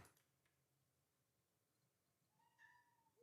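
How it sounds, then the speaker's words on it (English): Pet cat meowing indoors: after a long near-silent stretch, one soft drawn-out meow, quiet and close, then a sharp sound at the very end. "You hear my cat talking to me."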